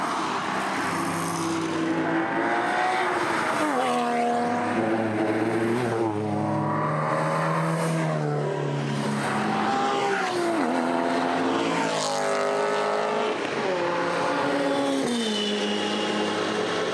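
Volkswagen Golf GTI Performance with a six-speed manual driving the Nürburgring Nordschleife Carousel, its engine droning loud and close from inside the car, pitch rising and falling through gear changes with steady road roar and no talk.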